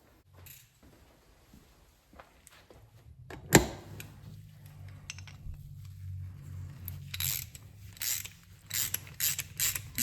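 Ratchet clicking as a bolt is run into greasy threads on a wrecked Harley-Davidson Sportster's hand controls, close mechanical pawl ticks and scraping in short uneven runs, growing busier toward the end.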